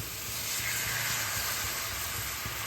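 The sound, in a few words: hot water poured into frying spice paste for hilsa curry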